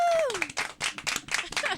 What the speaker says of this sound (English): he gets a round of applause, Bo Campbell.